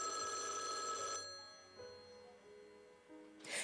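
An old-style telephone bell rings in a bright, metallic burst, fades, then sounds in shorter repeated rings before starting again at the end.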